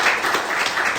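A church congregation applauding during a French-language service, a brief burst of dense, bright clapping from many hands, fairly loud and close, with no clear voices over it.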